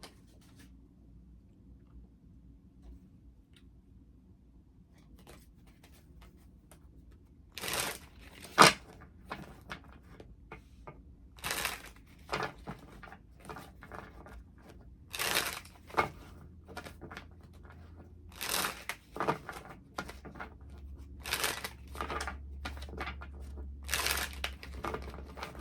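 Tarot cards are shuffled for a reading in a quiet room, with short bursts of riffling and soft card slaps recurring every few seconds.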